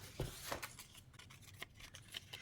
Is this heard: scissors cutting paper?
yes